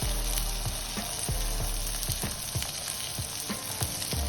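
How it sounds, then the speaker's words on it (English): Tomatoes grill in a pan used for a stuffed omelette, sizzling steadily up close with regular scraping and clicking stir sounds. "Same pan, make some grilled tomatoes to serve on the side."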